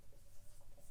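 Marker or chalk writing fractions on a classroom board, a short soft scratchy stroke heard close and alone.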